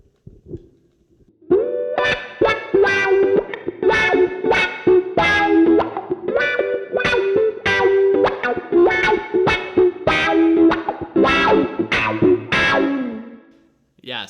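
A heavily distorted high-gain electric guitar through a Xotic wah pedal playing a choppy riff of repeated strummed chords with a swept, wah-like filtered tone, loud and close.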